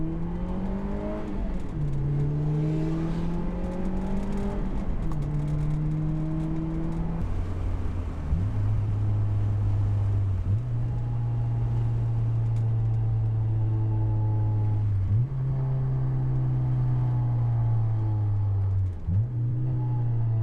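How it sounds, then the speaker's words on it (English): Honda S2000 with an upgraded exhaust on the move, the engine climbing steadily through the revs, then dropping back at each shift in a repeating pattern of rising drones, loud and continuous with no talking. "I'm gonna be doing some test clips of the exhaust"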